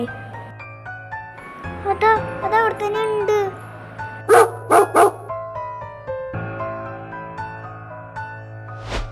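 A dog barks three times in quick succession, loud and close, amid background voices and a steady hum.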